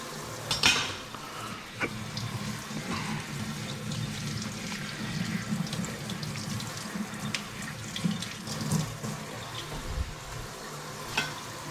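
Tap water runs steadily over chickpeas in a kitchen sink, washing off gritty sand, with a continuous splashing rush and a few sharp knocks and clinks.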